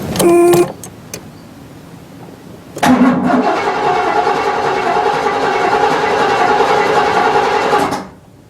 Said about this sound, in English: Crank it over and see what it does.